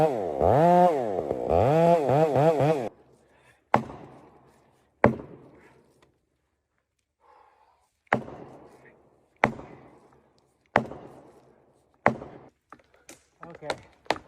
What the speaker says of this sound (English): A focused person uses a chainsaw to cut through a big tree trunk with care.